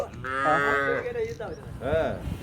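A Khillar cow moos twice up close, long drawn-out lowing calls with a short pause between them.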